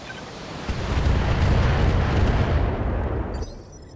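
Mech weapons firing in a BattleTech game session, a dense, sustained roaring barrage of explosive blasts that swells and then cuts off abruptly near the end, loud and close.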